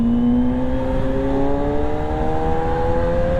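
A motorbike being ridden, its engine droning steadily with a slowly rising pitch as it accelerates, loud and close throughout, no talk.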